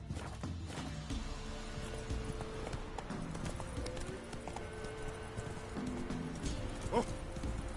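The horse Roach galloping in a video game, steady rhythmic hoofbeats with an occasional whinny, heard at low level under game sounds.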